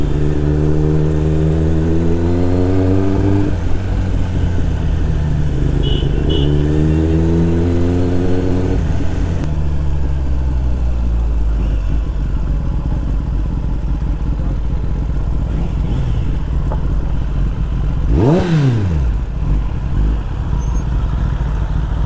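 Kawasaki ZX10-R sportbike with an SC Project full exhaust system, loud and close, climbing through rising revs twice before settling into a steady roar, with a brief sharp rev burst late on.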